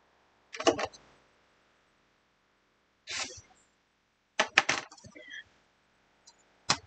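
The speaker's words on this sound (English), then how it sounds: "So, let me just cut this edge." Fabric edge being cut along a wedge ruler: three separate bursts of crisp slicing and scraping, close and fairly loud with quiet gaps between, and a faint tap near the end.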